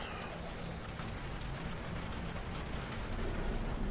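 Steady rain falling in the video game The Alters, a dense, even wash of patter that swells slightly louder toward the end, with no voices.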